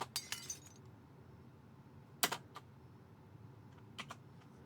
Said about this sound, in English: Glass for the secondary explosion.